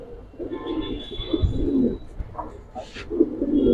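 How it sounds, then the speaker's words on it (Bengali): Giribaz pigeons coo in low, throaty, rolling bursts close by, several birds overlapping with soft chirps and faint background noise between the calls. "দর্শক এক ব্যাটারি কবুতর ডাকে কি সুন্দর দেখেন"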